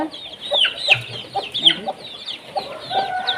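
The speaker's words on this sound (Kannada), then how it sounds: "ಇದು ಈಗ ತಾಯಿಯ ಜೊತೆ ಇರುವಂಥ ಮರಿಗಳು" Country hens with their young chicks cluck softly nearby, mixed with high, thin chick peeps and chirps in an irregular, busy pattern, fairly loud and close.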